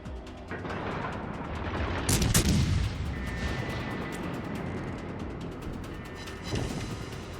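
Naval gunfire in World of Warships Legends, the USS Nevada battleship firing on an enemy Texas, with rumbling cannon booms and a loud blast burst partway through over continuous battle noise, without speech.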